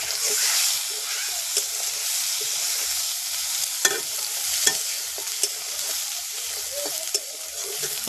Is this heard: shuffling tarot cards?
no